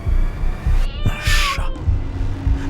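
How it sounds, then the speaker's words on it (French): A cat meows close by, a drawn-out wavering cry followed by a short second call, over a low rhythmic throbbing hum. "Un chat est entré par le soupirail."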